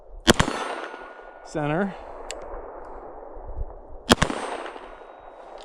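Two sharp, loud gunshots, each followed by the ringing clang of a steel silhouette target struck at about 15 yards, from a gun fitted with an OSIGHT X sight on an outdoor range, with a brief spoken word between them.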